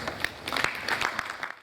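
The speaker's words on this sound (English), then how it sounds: "A round of applause for her." Brief burst of audience applause at a business roundtable on construction, a dense patter of many hands at moderate level that fades out at the end.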